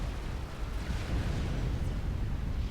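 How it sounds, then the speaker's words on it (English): An ACU explosion in the strategy game Supreme Commander: Forged Alliance, heard as a sustained, dense roaring rumble that stays loud and steady throughout, with no talk. "And there's one ACU explosion at the top"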